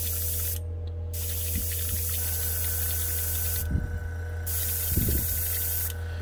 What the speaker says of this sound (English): And it sends the air back into the cup without doing anything. Now you're back flushing.